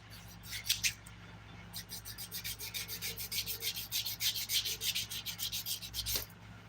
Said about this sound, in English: through filing here, we're gonna make it look nice